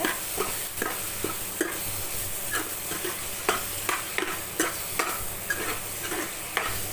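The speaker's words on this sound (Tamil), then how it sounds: "தக்காளியும் இன்னும் கொஞ்சம் நேரம் வதங்கட்டும்" Tomatoes sauté in hot oil with a continuous sizzle, while a spoon scrapes and stirs the pan in regular, distinct strokes, close and without voices.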